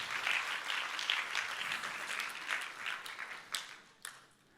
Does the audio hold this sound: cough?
no